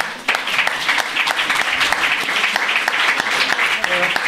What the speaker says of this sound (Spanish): Hay que darle un aplauso aquí y darle la enhorabuena.